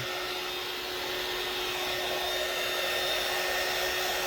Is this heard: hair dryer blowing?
yes